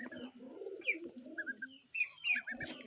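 Pigeons coo softly nearby in low, throaty rolls, with a few higher chirps from other birds mixed in. There is no speech.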